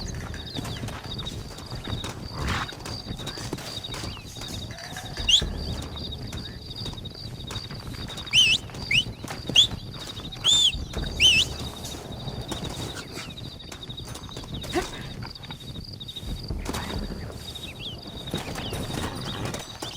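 Horses gallop in Red Dead Redemption, a steady clip-clop of hooves running on and on under wind and ambient noise, with sharp jingling metallic clinks now and then.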